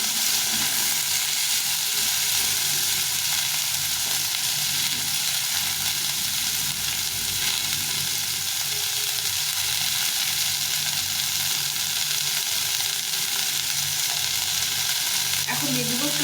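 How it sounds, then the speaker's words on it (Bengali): Bitter gourd frying with potatoes in a pan, a loud continuous sizzle running steadily without pause, no talking. "এখন আমি করলাগুলো দিয়ে দিব করলাগুলোকে ভালো করে ভেজে দিতে হবে আলুর সঙ্গে একটু ভালো করে ভেজে দিতে"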